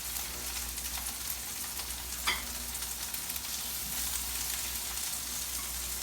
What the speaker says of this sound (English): Throwing a pinch of the squash.